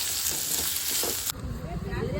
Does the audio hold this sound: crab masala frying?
yes